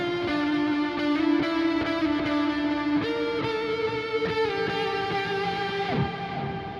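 Electric guitar run through a JST Toneforge Jeff Loomis amp plugin with echo added, loud sustained distorted chords and notes ringing with repeating delay tails, played alone without talk.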